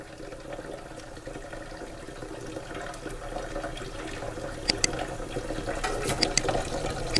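Water pours steadily into a cooking pot for a Colombian sancocho stew, a continuous rushing fill with a few sharp clinks near the end, no speech.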